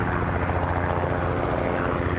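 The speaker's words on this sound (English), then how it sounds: "Ooh, bit of helicopter action" A helicopter at Newcastle International Airport gives a loud, steady rotor chop and engine roar that stays even and close throughout, with no voices over it.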